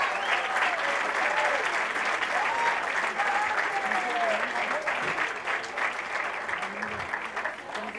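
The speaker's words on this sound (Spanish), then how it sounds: "también un aplauso para Dante Delgado Ranauro, también coordinador nacional del MC" A political rally crowd breaks into steady, dense applause with scattered cheers and shouts over it, fairly loud and continuous before easing slightly toward the end.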